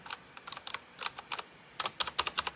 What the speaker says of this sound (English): It is so nice for a budget gaming keyboard. It not only sounds really nice,